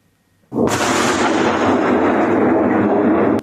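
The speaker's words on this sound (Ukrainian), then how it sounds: "Десятки таких вибухів пролунали цієї ночі над поки ще окупованим Кримом." A sudden, loud blast erupts after a brief quiet, then a heavy, sustained roar of night explosions over Crimea and rumbling continues without pause.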